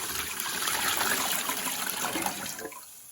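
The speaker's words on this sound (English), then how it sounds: "So I'm going to add the rest of this water I just stirred up." Stirred-up water poured into a container for eco dyeing, a continuous close splashing gush that runs for a few seconds and then stops abruptly.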